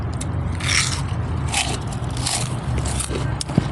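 Very hot, spicy potato chips crunched up close, a dense run of crisp bites and crackly scrapes lasting throughout, fairly loud and steady with no talk.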